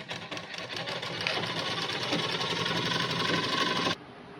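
Sewing machine stitching a hook strip onto a belt blouse, a steady rapid whirring run of stitches for about four seconds that stops abruptly, with no talk.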